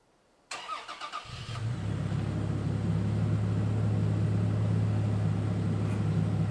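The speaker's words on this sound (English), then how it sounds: "I guess I can give you guys a cold start." A third-generation Toyota Tacoma engine cold starts with a brief cranking whir, catches, and settles into a steady, close rumbling idle.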